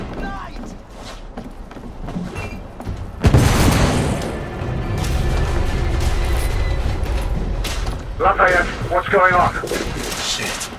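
An explosion rocks a ship in The Order: 1886, with a heavy boom that gives way to sustained rumbling, crashing debris and bursts of gunfire-like impacts, while voices speak over parts of it.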